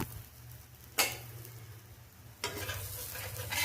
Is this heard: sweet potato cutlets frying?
yes